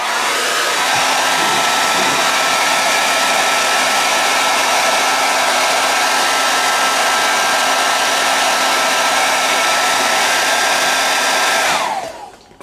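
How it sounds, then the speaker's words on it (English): A hairdryer blows loudly and steadily at close range for about twelve seconds while drying paint on a Space Marine miniature, then cuts off, with no talking. "Now, a bit of a hairdryer again,"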